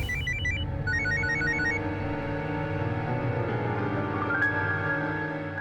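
A telephone rings with a repeating electronic trill, several short warbling bursts over a steady low background hum.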